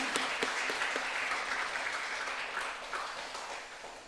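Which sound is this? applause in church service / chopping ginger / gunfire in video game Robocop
applause in church service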